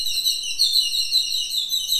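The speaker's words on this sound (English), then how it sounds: "that pack of birds always hunts together." Birds chirp continuously in rapid, high trilling calls, steady and moderately loud with no talk.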